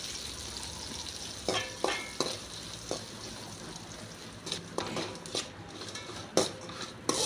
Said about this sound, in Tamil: நல்லா வெங்காயம் வதக்கட்டும்